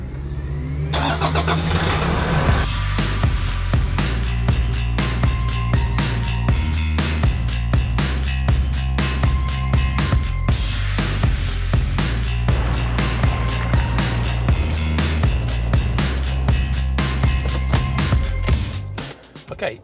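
A car drives along minor country roads, its engine a steady, loud drone throughout, mixed with dense rattling and clicking from the dash mount and cabin, cutting off abruptly at the end with no voices heard.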